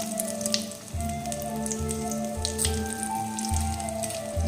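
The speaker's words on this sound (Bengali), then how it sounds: "এবার দিয়ে দেবো কালো জিরে ফোড়ন, আর দেবো দুটো শুকনো লঙ্কা" Nigella seeds and two dried red chillies sizzle in hot oil after fish has been fried, a steady crackling hiss with small pops, close and continuous.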